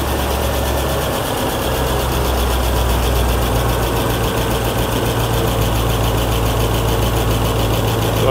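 A supercharged Mercedes-AMG M113 V8 with IRP pistons, fitted to an SL55 AMG, idles steadily and loudly throughout with a deep, even burble and a faint hydraulic lifter tick. No talking.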